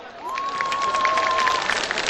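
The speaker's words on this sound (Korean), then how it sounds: "여러분 박수 함성" A crowd applauds and cheers for a singer being introduced on stage, a steady wash of clapping with a sustained whistle-like tone riding over it.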